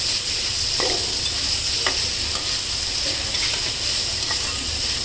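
Broccoli and capsicum frying in oil with ginger garlic paste, a constant loud sizzle and hiss with occasional soft clicks of a spatula stirring the pan.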